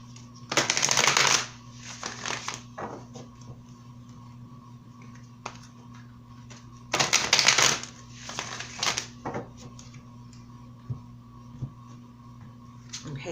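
Tarot cards are shuffled in two brisk riffling bursts of papery flutter, close and clear, separated by quieter handling and soft taps over a steady low hum.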